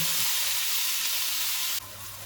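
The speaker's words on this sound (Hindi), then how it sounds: "ऑयल गर्म हो गया, इसमें 500 ग्राम बीफ का कीमा डालेंगे।" Beef mince sizzles loudly in hot oil with ginger-garlic paste over a medium-high flame, a steady broad hiss that drops a little in level near the end.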